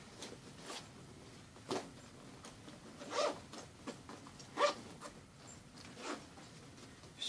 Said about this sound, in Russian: все замки в комплекте работают